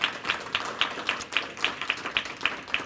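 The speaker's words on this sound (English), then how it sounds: "We need to stop and clap for that." Audience clapping at a sexual health education symposium in Oregon, a sparse, fairly quiet round of claps with a loose rhythm, individual hand claps standing out distinctly rather than a dense ovation.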